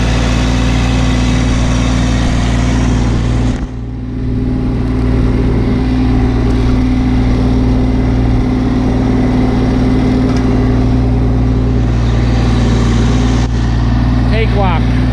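A vehicle engine drones steadily while driving over a muddy firewood trail, a constant low rumble with a brief dip as it works over rough ground; someone talks over it.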